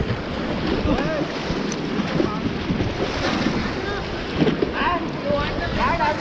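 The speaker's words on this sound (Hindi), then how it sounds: "एक साथ pedal forward, come on body power लगाओ एक साथ, बॉडी मूवमेंट कीप रोइंग" A river raft is paddled on the Ganga at Rishikesh, with rushing water, splashing and wind noise forming a loud, continuous wash, while voices sound faintly beneath it.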